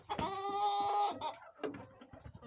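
Bantam chickens, including a red rooster, nearby: one drawn-out, tonal call, then a scatter of soft, short clucks, with no talking.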